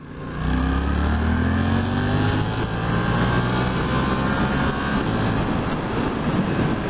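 A 2023 Suzuki GSX-8S motorcycle in power mode B pulls hard up a steep hill in second gear, its engine note rising loud and close in one sustained acceleration.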